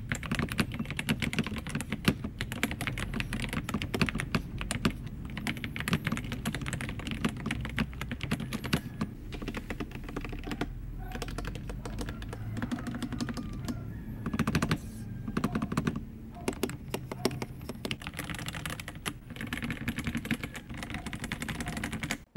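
Typing on a Yunzii YZ87 tenkeyless mechanical keyboard fitted with Yunzii Milk switches, a close, dense and continuous run of rapid keystroke clacks with no voice over it.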